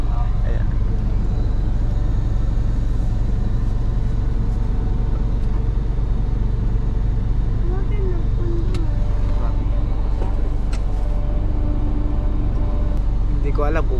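Vehicles stuck in a traffic jam on a road near a landslide area, with a constant low engine rumble and idling hum throughout while a person talks over it.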